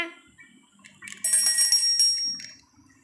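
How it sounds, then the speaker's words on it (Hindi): Bells ringing in the Granny horror video game, a bright sustained metallic ring that swells and fades over a couple of seconds among faint game sounds. "घंटी वंटी सब बजी जा रही"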